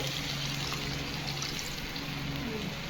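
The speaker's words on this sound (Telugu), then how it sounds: "కొద్దిగా వాటర్ పోసేసుకొని ఉడికించుకునే సార్ బాగా" Water poured into a pot of chicken curry: a steady, continuous pour and splash, fairly close, with a low hum underneath throughout.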